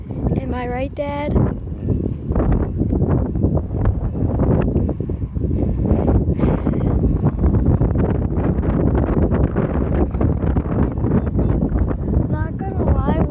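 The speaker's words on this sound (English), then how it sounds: "What a windy day." Strong wind buffets the microphone beside a railroad crossing at the Red Caboose Motel, a loud continuous roaring rumble under people talking throughout.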